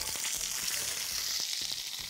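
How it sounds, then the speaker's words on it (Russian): Fish frying in a pan gives a steady, dense sizzle with soft crackles, loud and close, continuing without pause and with no voices. "Рыбу обжариваю."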